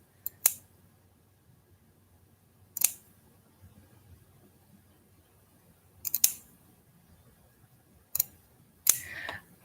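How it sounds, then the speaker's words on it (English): Scissors carefully snipping through the backing of brown craft fur, five crisp isolated cuts spaced a couple of seconds apart, close and clear against a quiet room. "And then we're going to just carefully snip the backing. I'm going to cut this in half."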